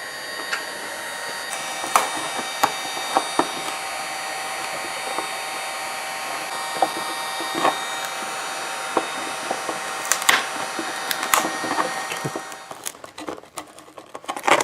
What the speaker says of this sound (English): after the glue gets softened a little bit, we pry it off with a chisel